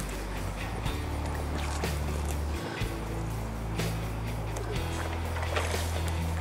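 Continuous buzzing motor hum of a small AquaCraft Rescue 17 RC boat running on water, fairly faint and steady, with splashy broadband noise throughout.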